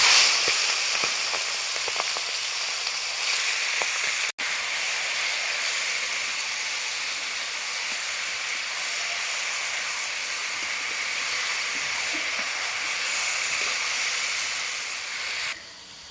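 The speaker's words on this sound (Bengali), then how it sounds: "এবার দেবো তেজপাতা আর শুকনো লঙ্কা মাখি রাখা মাংসটা আমি দিয়ে দেব" Marinated chicken hits a hot pan with bay leaf and dried chilli, giving a loud, steady hiss of sizzling that holds for the whole stretch, with a brief cut partway through and a drop at the very end.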